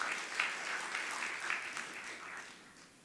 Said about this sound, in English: So a round of applause for Professor Harris.